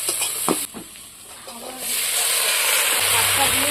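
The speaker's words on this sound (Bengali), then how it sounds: "আলুটাকে একটু কষাবো দেখো সেটা আলুটাকে একটু কষাতে হবে" Potatoes with salt fry in a pan: a few close stirring knocks at first, then a loud, steady hissing sizzle that swells and holds to the end.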